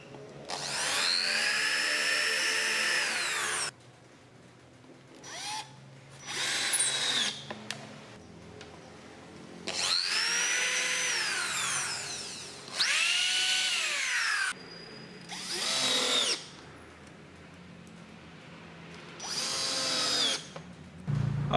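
A power drill drives 25 mm screws into an 18 mm MDF tabletop in repeated whirring bursts of a few seconds each, rising and falling in pitch, with quiet pauses between them and no talking.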